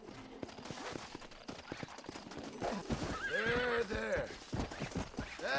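A wild horse in the Red Dead Redemption game whinnies loudly and close while its hooves clip-clop in an uneven run, with gunfire faint in the background.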